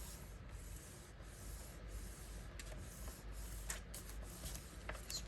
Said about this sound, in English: Just burnish them real well.